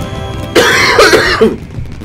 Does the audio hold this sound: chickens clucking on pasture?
no